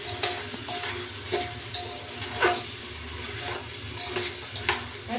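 A spoon scrapes and clinks against a pan while stirring bottle gourd with mung dal, soft irregular knocks and scrapes over a low sizzle, close and fairly quiet.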